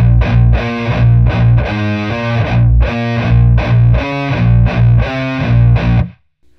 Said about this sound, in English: as you can hear, we've always got that double chug going on.